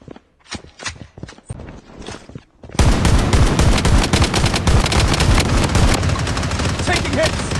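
Rapid automatic gunfire from a BloodStrike shooter match, scattered shots at first, then a dense, loud sustained burst of overlapping fire with mechanical clatter.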